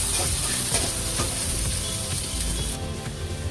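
Onions frying in a hot pan for a fish curry, giving a loud, dense, continuous sizzle with occasional stirring clatter, close up and with no voices.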